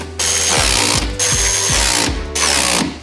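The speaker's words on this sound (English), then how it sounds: "push the damper into the wheel hub, tighten the bolts up at the bottom, and the top mount bolts as well" A power tool whirs in three sustained bursts, ratcheting and chattering as it tightens damper bolts on a BMW M3 Competition wheel hub, loud and close with no talking.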